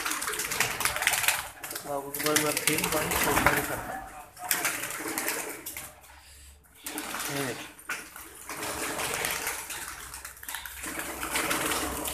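Pigeons at a fancier's loft in Faisalabad, Pakistan, coo and stir amid a noisy, rustling background, heard mostly beneath someone speaking throughout.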